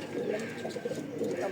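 A male racing pigeon of foreign bloodline coos nearby in soft, low, repeated murmurs that run steadily through the moment with no one talking.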